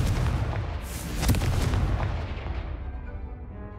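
A Confringo fire spell explodes in the Hogwarts Legacy video game: a loud, broadband blast swells and peaks about a third of the way in, then rumbles and fades with a long tail, with no talk.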